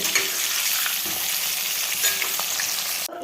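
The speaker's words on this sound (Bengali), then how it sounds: "লবণ দিয়ে আলুগুলোকে ভেজে নিচ্ছি" Potatoes with salt sizzling and frying in hot oil, a loud steady crackle with occasional stirring scrapes throughout, alone without voices.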